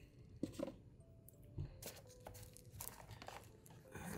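Packaging rustles and crinkles in short bursts as an Aaxa P400 projector is lifted out of its box, with plastic and cardboard crackling close by at a low level.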